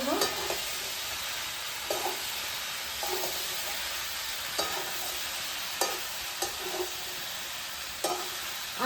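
Mixed vegetables with turmeric and red chili powder are stirred in a pan, a soft background sizzle broken by regular spoon scrapes and knocks against the pan, about one each second.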